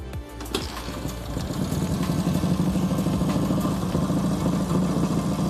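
An old motorcycle engine catches after a brief start and settles into a steady, loud running idle with a continuous mechanical clatter, close by.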